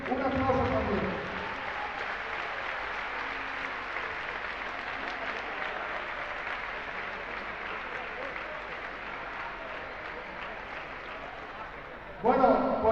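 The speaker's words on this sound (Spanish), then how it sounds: "Un aplauso también." An audience at a season presentation event applauds a guest in a long, even wash of clapping that fades slightly over time before a sudden louder burst right at the end.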